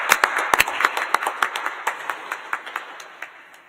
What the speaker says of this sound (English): this merits a round of applause